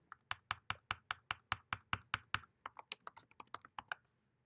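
Rapid keystrokes on a computer keyboard as a C program is typed, a steady run of crisp, close clicks that loosens into a quicker, lighter patter before stopping, with no talking.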